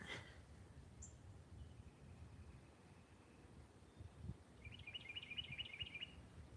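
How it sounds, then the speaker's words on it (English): A bird sings in a spring yard and garden, a faint distant high-pitched warbling phrase that comes in near the end over low rumbling background noise and scattered faint chirps. "Farmer Meemaw, what kind of bird is singing? It's a beautiful song"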